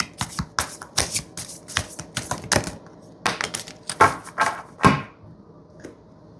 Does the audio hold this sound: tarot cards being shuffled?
yes